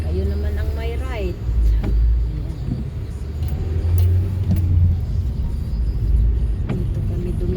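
A car passes on a city street in Maribor, a steady low engine rumble that swells and fades, with voices talking over the traffic.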